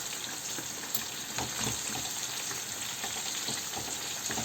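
Zucchini slices frying in a pan on the stove give a steady, close, crackling sizzle with occasional louder pops, and no voices are heard.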